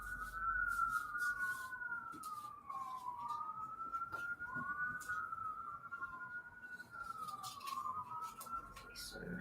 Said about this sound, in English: Sorry about all the sirens.